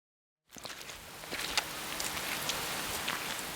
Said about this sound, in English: It's raining heavily as we walk through a small village on the outskirts of Freetown.